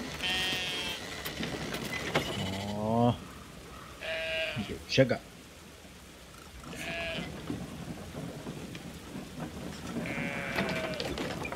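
Goat bleats from the video game Brothers: A Tale of Two Sons, several wavering cries spread across the stretch, mid-loud, interleaved with casual talk from players.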